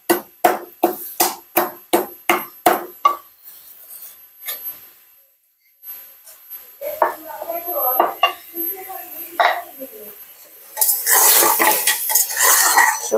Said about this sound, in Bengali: আর এখানে এলাচ থেতো করে নিচ্ছি।